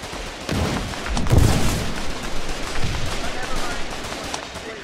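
Gunfire in the war game Foxhole, a steady spray of overlapping shots with one heavier blast near the start, with voices talking through the fighting.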